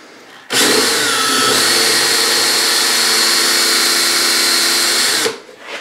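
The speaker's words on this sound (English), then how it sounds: "There's a certain point at which the drill bit will catch and it will just like ravage the wood" A loud power drill whirs continuously for about five seconds, close by, grinding steadily into wood end grain before spinning down and stopping.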